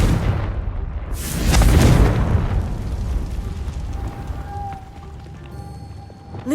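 A Confringo fire spell goes off in Hogwarts Legacy, a loud booming blast that swells and rumbles for a couple of seconds, then fades into crackling game ambience and a faint tone.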